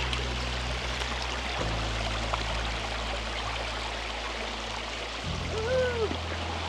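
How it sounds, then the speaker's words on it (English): A small bubbling brook beside a path near Lake Bled flows in a continuous close rush and trickle of water, steady throughout with a faint passing bird note near the end and no speech. "So we're meandering up this path along this beautiful bubbling little brook"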